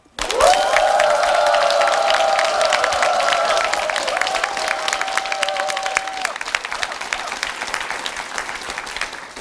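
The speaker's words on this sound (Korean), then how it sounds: "오늘 주제 인물 백인자 대표님을 큰 박수로 부탁드립니다" A studio audience at a televised lecture gives loud, sustained applause welcoming the featured guest speaker, with a brief musical sting sounding over the clapping before the applause slowly tapers.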